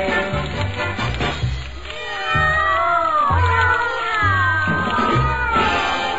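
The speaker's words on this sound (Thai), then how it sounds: "แมวไทย แมวไทยแมวไทย" A Thai song features loud, drawn-out cat meows and wailing caterwauls that glide up and down over a steady, thumping musical accompaniment.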